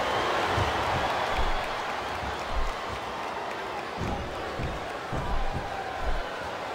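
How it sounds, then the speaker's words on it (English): A capacity wrestling arena crowd at a WWE pay-per-view keeps up a steady, distant roar of cheering and clapping, with occasional low thuds and announcer-like voices murmuring underneath. "This capacity crowd is making their opinions known tonight."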